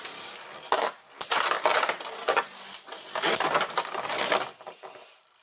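Beyblade tops clash and scrape inside a cheap plastic arena, giving a fast, close run of rattling, gritty impacts in bursts with brief pauses between them.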